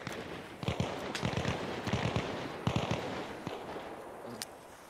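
Close-range gunfire in the video game Arma Reforger: repeated sharp bursts of shots crackle over a steady background rumble, spread across the whole stretch, with the loudest volleys in the middle.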